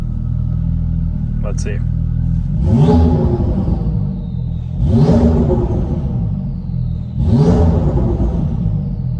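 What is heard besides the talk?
Lamborghini Urus engine revving in Sport Plus mode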